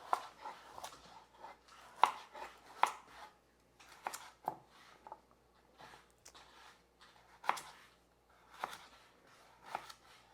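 A knife chops carrots on a cutting board for a rooster bone broth soup, with soft, irregular cuts and occasional sharper taps at a modest, close level.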